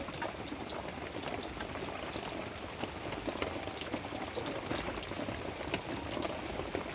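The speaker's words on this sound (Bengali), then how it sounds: "মাছের ঝাল করার জন্য পেঁয়াজ দিয়ে দিয়েছি তেলের ওপরে" Sliced onions sizzle in hot oil in a pan for a Bengali fish curry, a steady dense crackle and hiss running unbroken and close throughout.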